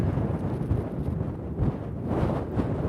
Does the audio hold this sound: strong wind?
yes